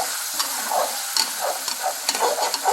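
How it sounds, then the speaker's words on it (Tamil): An egg stirred through finely chopped chicken frying in oil, for white fried rice: a steady sizzle broken by repeated scraping stir strokes, close and fairly loud. "எக்கு உடச்சி கிளறேன் பாருங்கள்."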